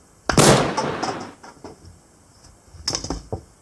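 A G2 Megatron toy figure fires its missile with an air pump, a sharp close pop followed by a rattle and clatter as the missile lands in a box, then a few lighter knocks.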